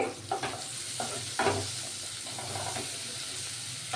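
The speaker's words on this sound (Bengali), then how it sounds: "বাকি পেঁয়াজটা আমি ছেড়ে দেবো ছেড়ে দিয়ে এটা ভাজা হলে" Onion sizzles steadily in hot white oil in a pan for a shahi mushroom dish, close up, with a few louder stirring scrapes breaking the constant frying hiss.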